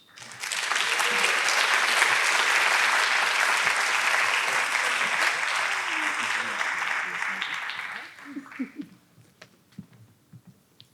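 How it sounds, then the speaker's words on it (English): Loud, sustained applause from a large audience at a games festival awards ceremony fills most of the clip, then fades out into scattered claps and quieter room noise. "Please join me in giving a heartfelt round of applause"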